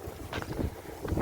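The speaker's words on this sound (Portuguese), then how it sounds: "Na verdade um vento até forte." Strong wind gusts buffet the microphone outdoors, a steady low rumble with louder surges, heard alone with no talking.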